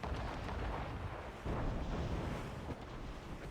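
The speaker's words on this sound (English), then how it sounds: "there's a ton of cannons and mortars going off" Cannons and mortars firing in an Assassin's Creed battle, a continuous low, rumbling barrage with heavy booms swelling around the middle, dense and distant-sounding under wind-like noise.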